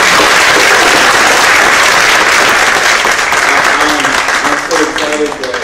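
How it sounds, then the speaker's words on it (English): Loud, dense audience applause at an afternoon book talk on poverty, steady sustained clapping from a full room that slowly begins to thin toward the end. "Let's give Randy a round of applause"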